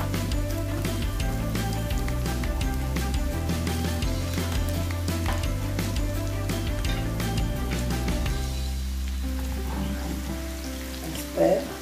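Onion frying in palm oil for yam porridge gives a steady, close sizzle and crackle that runs continuously, with a soft low hum beneath it and no talk over it.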